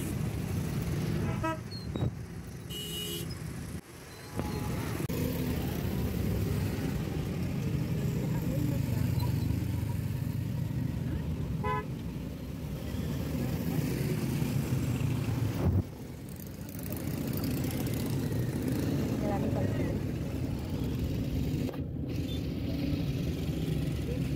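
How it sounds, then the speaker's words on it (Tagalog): Heavy, slow-moving road traffic in Karachi's Saddar area, a steady close rumble of engines with occasional horn toots, and people talking over it throughout. "sa sobrang traffic, ang bagal ng pagkilos ng sasakyan."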